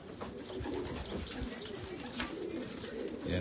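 Racing pigeons coo at a loft in New Zealand during a 346 km race, a steady layer of low murmuring coos close by over a constant outdoor hiss.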